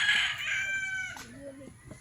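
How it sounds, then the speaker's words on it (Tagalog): A fighting rooster (gamecock) crows loudly up close, a drawn-out, falling call, followed by softer clucking and farmyard noise. "So, ang dami nilang mga panabong na manok."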